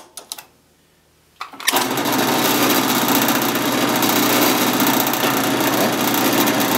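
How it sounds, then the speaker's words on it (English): A few light knocks, then a drill press with a Forstner bit starts up, a steady, loud high-pitched whine running continuously as it bores a shallow hole. "I've set my drill press stops where I'm only drilling this hole about 1/4 inch deep"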